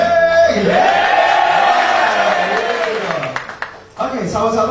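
An audience claps and cheers at a personal development trainer's launch event, a dense, loud wash of applause with a voice riding over it, briefly dipping before a fresh burst.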